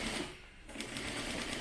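Sewing machine running a straight stitch along the edge of a fabric mask in white thread, a steady fast mechanical whir after a short pause, close and fairly quiet.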